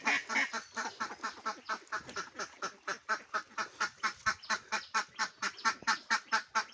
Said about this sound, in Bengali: আজকে কিন্তু খাবার হিউজ পরিমাণ খাইছে হাঁসে